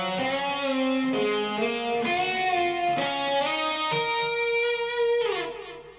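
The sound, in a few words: electric guitar solo lick from Airplay It Will Be Alright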